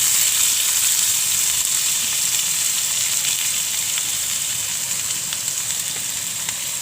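Onion is tipped into garlic frying in oil, about two spoonfuls, and sets up a loud, steady sizzle with crackling hiss that holds continuously throughout, with no voices.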